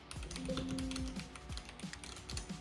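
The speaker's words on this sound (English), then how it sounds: "This is what the keyboard sounds like." Fingers type on a custom mechanical keyboard priced over $200, producing a quick, irregular run of crisp clacky keystrokes close up, with small pauses between bursts and no speech.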